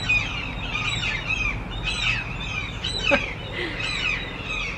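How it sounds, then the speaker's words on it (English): Seagulls call repeatedly outdoors, a busy overlapping chorus of squawks and cries at moderate distance over steady ambient background noise. "seagulls are going crazy."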